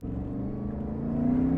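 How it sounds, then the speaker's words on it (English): Mercedes SLR McLaren engine revving, a steady, loud low engine drone with harmonic tones that rises slightly in pitch and volume toward the end, no talk over it. "The engine note is it's just out of this world."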